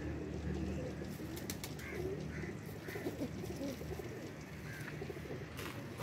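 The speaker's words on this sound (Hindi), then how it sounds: "जरा दिखाइएगा, ऐसे दिखाइएगा ये कबूतर" Neelay pigeons coo softly at close range, with low repeated calls and some wing flutters over a background murmur.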